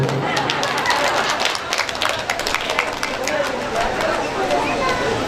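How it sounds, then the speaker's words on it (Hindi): An audience clapping at a Sri Ram katha religious gathering, a dense continuous patter of many hands under crowd noise and voices. "चलो बजा लो ताली बजा लो"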